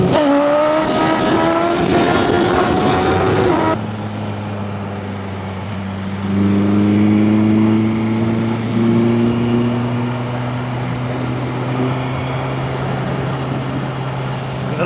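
A motorcycle on a ride, its engine droning steadily and loudly close by, with a rising rev early on that drops abruptly, then a lower sustained hum that shifts pitch as it cruises.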